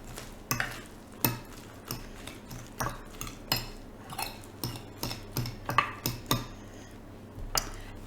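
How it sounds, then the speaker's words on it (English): A utensil stirs scrambled egg whites with sausage, peppers and spinach in a microwaved dish, giving repeated soft scraping clinks at an irregular pace, close and fairly quiet. "So we'll just mix this all together."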